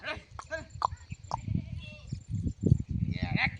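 A young male buffalo calf gives a few short, bleating calls at close range, mixed in with people talking nearby, as light rain begins.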